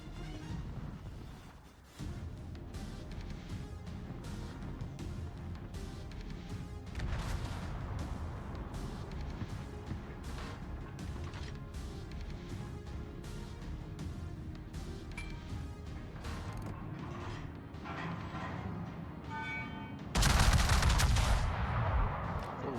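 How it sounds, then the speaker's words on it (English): Naval artillery firing full salvos in the World of Warships video game on an Asia server during a Yamato battle, dense repeated booming gunfire over a continuous rumble, with a sharp loud burst near the end. "Full salvo, fire."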